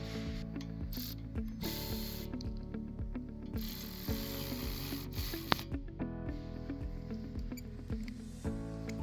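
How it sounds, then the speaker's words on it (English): A ratcheting wrench clicks steadily and quickly while loosening a caliper bracket bolt on the rear brake of a 2019–2024 Toyota RAV4, close up and fairly quiet, with no talking. "I'm using a ratcheting wrench to break the bolt free."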